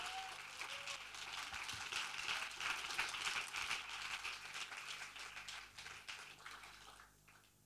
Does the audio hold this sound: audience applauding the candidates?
yes